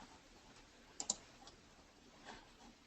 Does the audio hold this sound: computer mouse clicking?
yes